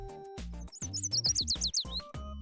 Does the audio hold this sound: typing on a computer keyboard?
no